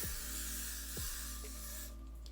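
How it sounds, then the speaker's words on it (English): A steady hiss of aerosol spray runs almost unbroken over a low hum, close by, stopping abruptly near the end. "I'm gonna be a bit more generous with the spray"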